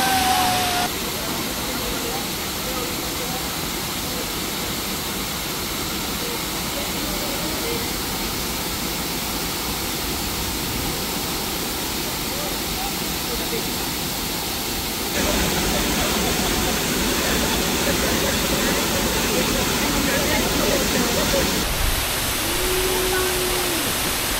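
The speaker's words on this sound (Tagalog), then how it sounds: "Tapos yung waterfalls, napakaganda" Bolinao Falls in Pangasinan rushing with a loud, steady broadband roar that never lets up, shifting slightly in tone partway through.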